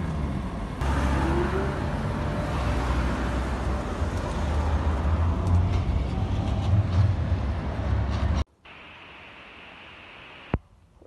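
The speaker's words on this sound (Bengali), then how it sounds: "ট্রেনে উঠলাম।" Steady low rumble and rattle of a train carriage in motion, loud and continuous, cutting abruptly to a quieter hum near the end.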